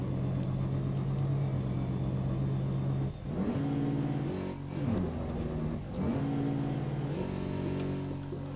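In Euro Truck Simulator 2, a car's engine revs and drones repeatedly as its wheels slip in mud, with pitch rising and falling in several surges, loud and with no talk.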